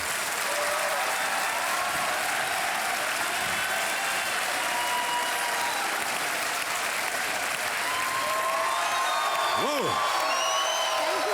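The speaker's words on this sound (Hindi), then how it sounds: "तालियां बजती रहें" Studio audience on a televised quiz show claps continuously, a thick even wash of applause with a brief whoop and crowd murmur near the end.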